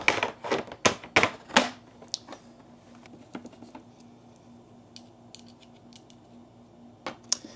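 Screws being driven into a dryer door during a door-swap repair, heard as a quick cluster of sharp clicks and taps up front, then a low steady whirr with scattered small ticks, close and alone.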